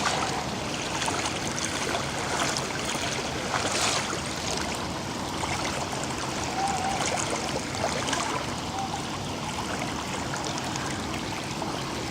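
Steady water rushes and trickles around hiking boots as they are pushed fully under the surface of a stream, a continuous close wash of flowing water with no voices.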